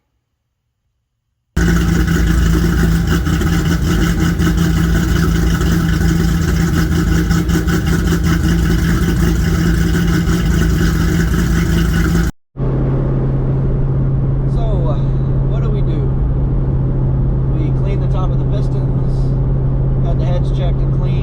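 A Fox body Mustang with low fuel pressure cranks and fires, then runs at a loud, steady rumble close by. After a brief cutoff it settles into a lower, smoother idle with faint chirps above.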